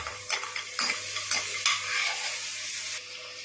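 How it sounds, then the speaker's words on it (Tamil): Almonds and cashews frying in ghee in a pan for kesari sweet, with a spoon scraping and stirring in rhythmic strokes over a steady crackling sizzle that carries on alone after the stirring stops. "நம்ம அது கூட பாதாமுங்க, முந்திரி ரெண்டையும் நெய்யில் ஃப்ரை பண்ணிக்க போகிறோங்க"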